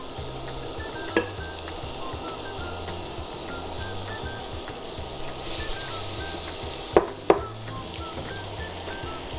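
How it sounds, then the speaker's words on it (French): Onions and garlic sweating in sizzling butter for a risotto, a steady close hiss and crackle with a low regular stirring rhythm and a few sharp knocks of a utensil against the pan, no talking. "On vient suer les oignons et l'ail pendant 1 minute"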